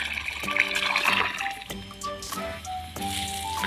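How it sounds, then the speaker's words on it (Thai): Pumped canal water gushes steadily into a rice field in a continuous rushing flow, with scattered clunks and tonal mechanical sounds running through it. "แดดแรงๆแบบนี้น้ำไหลเต็มสายค่ะ"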